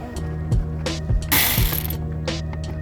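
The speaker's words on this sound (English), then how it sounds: "Get that screw out there." A ratcheting screwdriver backs a screw out of the steering column cover on a Mini Cooper Coupe R58, giving a few close, crisp clicking bursts of the pawl between short pauses.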